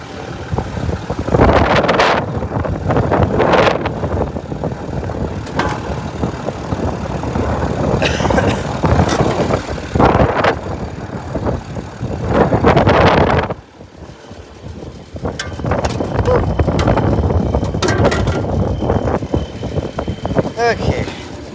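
Heavy machine engine idles steadily and loudly once its conveyor belts are shut off, a continuous rumble with wind buffeting the microphone and a brief dip partway through.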